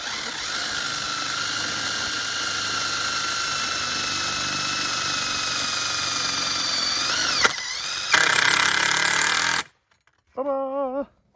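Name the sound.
cordless impact driver driving a screw through 1/8 inch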